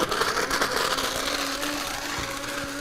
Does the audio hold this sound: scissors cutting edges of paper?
no